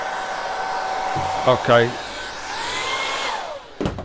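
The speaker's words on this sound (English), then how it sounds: "So I'll go over later with the hairdryer on the other panels" A hairdryer blows a steady, loud whoosh with a constant whine as it heats wrap film on a BMW R1200 GS motorcycle pannier, with someone speaking briefly and some handling clatter near the end.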